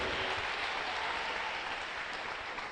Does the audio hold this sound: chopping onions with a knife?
no